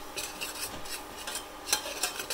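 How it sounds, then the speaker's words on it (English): Soft scraping and stirring of flour frying in melted margarine in a pan, with a faint sizzle underneath, irregular strokes at close range, no voices. "we are adding a bit of flour and just frying the flour in margarine"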